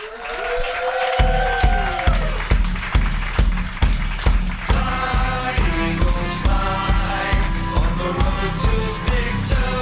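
An audience at a live show applauds a performer's introduction, with clapping and cheering under music, followed by a steady rhythmic beat of thumps and tones that continues as the crowd noise settles.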